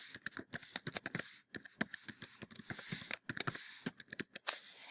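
Rapid, uneven bursts of key clicks from a computer keyboard while entering data into a spreadsheet, close and fairly quiet, with short pauses between runs of typing.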